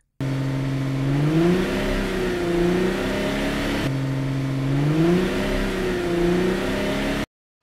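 A toy purple car revs with a humming engine tone that climbs and falls in two matching rising sweeps, steady and moderately loud.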